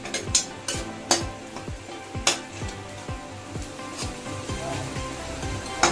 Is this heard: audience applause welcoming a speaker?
no